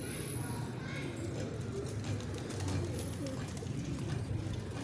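Pigeons at a Lodhi pigeon club coo softly and steadily in low, repeated murmurs over a constant outdoor background, with a few brief higher chirps mixed in.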